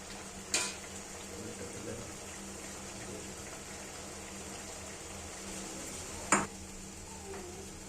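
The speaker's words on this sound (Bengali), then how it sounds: "এবার আমরা ভেজে রাখা মলা মাছগুলো দিয়ে দেব।" Fried mola fish dropped into an eggplant curry in a pan, a soft steady simmer with two brief sharp clinks of utensil on pan, quiet, close and without talk.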